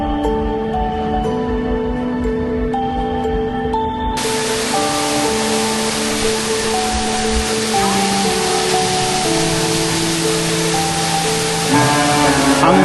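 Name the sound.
Concord waterfalls in Grenada, rushing water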